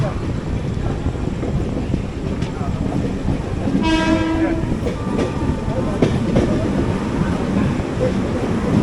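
The Mandovi Express, train 10104 from Madgaon to Mumbai, pulls into Thane, heard from aboard: a steady rolling rumble with wind noise, a loud horn blast midway and a few sharp rail clacks.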